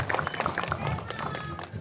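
Brief, fairly faint applause from a press conference audience for the film Hati Suhita, a scattered patter of claps mixed with voices.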